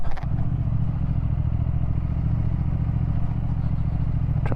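A motorcycle engine runs steadily as the bike is squeezed into a parking spot near Sunderland Bridge. The rumble is loud and continuous, with an even low-pitched drone and no voices.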